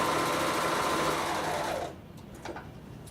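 A Bernina overlocker runs steadily while sewing a rolled hem, a loud continuous whir that cuts off near the end, followed by a few faint handling clicks.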